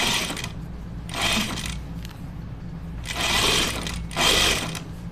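A sewing machine stitches a shirt seam down to the hem of a men's button-up shirt in four quick whirring bursts separated by short pauses, close and clear with no talking.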